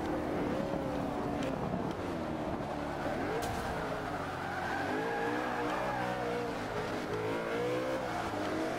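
A race car in the Forza 5 video game screams at high revs with tires squealing and skidding, a steady loud engine drone rising and falling through gear changes and left running on its own.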